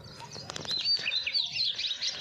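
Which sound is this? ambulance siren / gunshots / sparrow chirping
sparrow chirping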